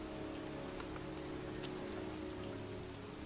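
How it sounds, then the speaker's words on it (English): Steady rain falls in the video game Heavy Rain, a soft, even patter of drops on surfaces with occasional sharper droplet taps and no talking. "It's cold. It's raining."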